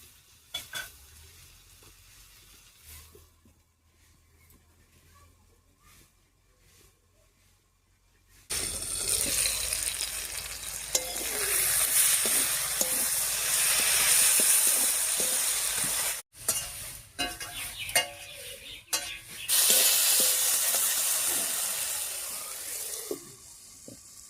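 Dried fish (shutki) curry cooks in a pan, first a quiet low simmer, then a loud close sizzling and frying hiss with scraping stirs, briefly cut off before the sizzle resumes, with no talking.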